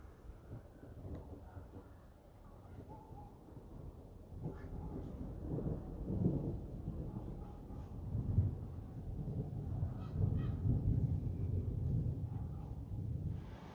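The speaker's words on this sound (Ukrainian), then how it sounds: "Ні, ні, ну це гримить, грім." Thunder rolls before rain in an overcast sky: a long, low rumble that swells and recedes, growing heavier toward the middle and end, with no one talking.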